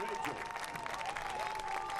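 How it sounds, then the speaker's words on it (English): A soccer crowd of Lexington SC home fans applauds a substituted midfielder during a match against the Richmond Kickers. The applause is dense and steady with a crowd murmur, and a commentator talks over it throughout. "a well-deserved applause from the Lexington faithful"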